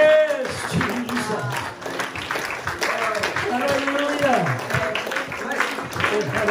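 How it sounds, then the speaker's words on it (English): A church congregation clapping in praise, steady massed applause throughout, while a voice speaks and sings over the clapping. "let's just give him a hand clap of praise"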